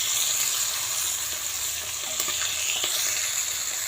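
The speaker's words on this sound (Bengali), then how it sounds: "দেখো আমি বসে বসে মাছ ভাজছি" Pabda fish fry in hot oil seasoned with turmeric, giving a close, steady, even hiss of sizzling that continues without a break and carries no voices.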